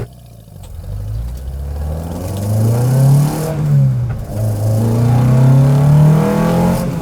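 A 1969 Datsun 510 track car revs hard on a circuit, the engine note climbing and holding loud and close as it pulls through the gears, with a rasping, buzzy tone and no voices.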